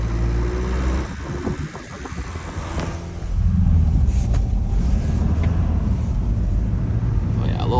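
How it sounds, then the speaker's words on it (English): A stick shift Volkswagen Beetle driving in snow, with a steady engine and road rumble that swells louder partway through while a voice talks over it. "driving a stick shift Beetle in the snow is gonna be an adventure in itself"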